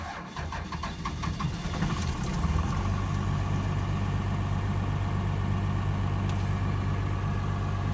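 A 12-valve truck engine, with the truck raised on axle stands at the rear, cranks and fires. It settles into a loud, steady idle with a deep, even rumble that continues unbroken to the end.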